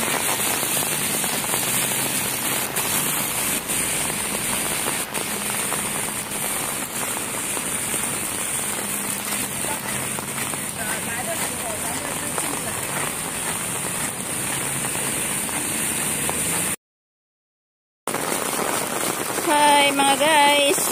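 Heavy rain falls in a park with a small fountain, a loud, unbroken wash of drops on surfaces lasting throughout, cut by a brief dropout near the end, with faint voices barely present.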